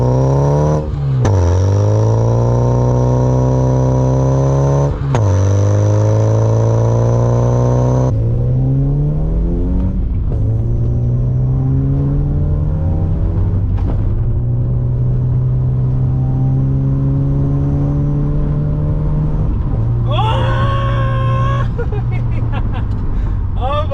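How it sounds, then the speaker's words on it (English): Exhaust of a budget car build fitted with cheap performance mods, revving in long loud droning pulls with rising and falling pitch, close up, with voices talking over it. "the exhaust sounds really good"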